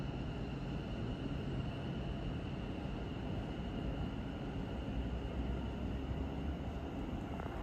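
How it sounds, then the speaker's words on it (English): A West Midlands Railway passenger service pulls away from Stechford station, a steady broad rumble with a faint tonal whine that holds even throughout, no voices. "about ready to depart is the 11:58 West Midlands Railway service to Birmingham International"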